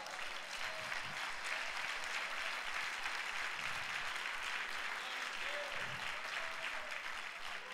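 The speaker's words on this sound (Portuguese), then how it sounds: "Vamos dar um aplauso ao Senhor?" A church congregation claps continuously in a steady, moderately loud wash of applause, with faint voices and murmurs rising beneath it.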